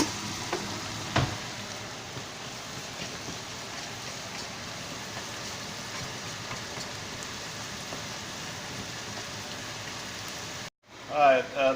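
Onions fry with salt in a pan, giving a continuous close sizzle like steady rain with a light knock early on. The sizzle cuts off abruptly near the end, and a voice follows briefly.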